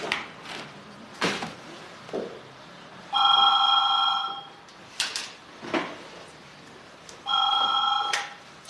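A telephone in a 1990s German police drama rings in two electronic bursts about four seconds apart, bright and moderately close, with faint footsteps and room noises between the rings.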